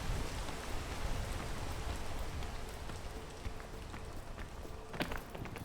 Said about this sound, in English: I have to wait for it to stop raining.